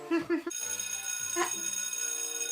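A phone rings with a bright electronic tone after a brief voice, the ring sustaining steadily to the end.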